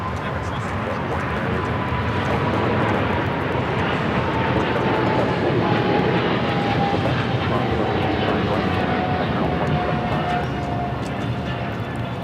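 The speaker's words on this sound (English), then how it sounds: "China Cargo Airlines 222, taking off to Shanghai on the 777 freighter." China Cargo Airlines Boeing 777 freighter taking off at LAX, a loud sustained jet roar with a slowly falling engine whine, broad and continuous across the whole stretch.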